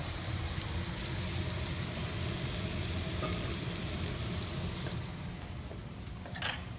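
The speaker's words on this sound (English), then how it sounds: "hopefully you can hear that sizzle. It's grilled asparagus." Steady crackling sizzle of asparagus on a hot grill, continuous and close, with a couple of faint clinks near the end.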